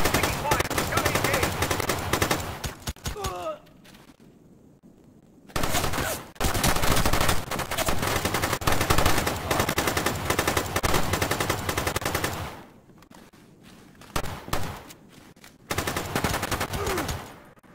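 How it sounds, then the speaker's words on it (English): Sustained automatic gunfire in SOCOM US Navy SEALs Fireteam Bravo 3, with long dense bursts separated by short lulls, and brief spoken callouts between the volleys. "Taking fire."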